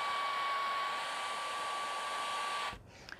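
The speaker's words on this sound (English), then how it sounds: "I'm gonna sit underneath my dryer for a while." A hooded hair dryer runs with a loud, steady whoosh and a constant high whine, then shuts off abruptly near the end, leaving quiet room sound.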